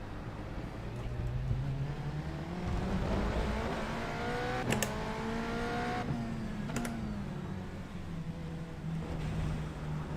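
Race car engine in the iRacing sim on a wet track, a sustained droning tone that climbs and falls through gear changes, with rushing spray and road noise constant underneath.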